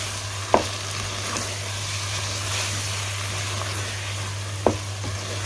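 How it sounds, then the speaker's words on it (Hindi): Tomatoes and green chilies fry on high flame in a pan for chicken and vegetable spaghetti, giving a steady close sizzle with a low hum underneath and two sharp clinks from a stirring utensil. "और इनको हाई फ्लेम पे फ्राई करेंगे।"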